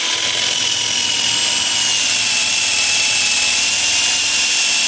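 A drill bores pocket holes into wood through an aluminum pocket hole jig, producing a loud, continuous high-pitched whine with a grinding edge, close and steady throughout.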